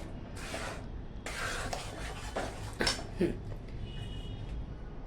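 Bhajke poha chivda ingredients being stirred and tossed by hand in a pan, giving soft scraping and rustling with a few sharper utensil clinks, close and moderately quiet.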